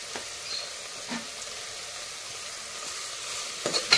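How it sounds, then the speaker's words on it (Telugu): Salt and a pinch of asafoetida frying in a pan, a steady soft sizzle close by with a few light stirring scrapes and clinks toward the end. "కొద్దిగా వేగనిస్తాను."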